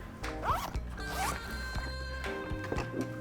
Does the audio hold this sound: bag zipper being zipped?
yes